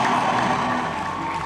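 An audience applauds for Hassan at a founder's inspirational talk: a dense, steady wash of clapping that holds at an even, fairly loud level for the whole moment, with no voices over it.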